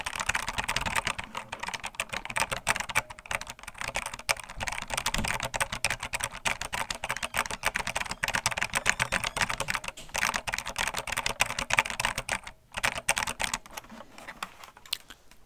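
Steady, continuous typing on a computer keyboard, dense rapid key clacks running nearly unbroken and close, with only a brief pause near the end and no talking.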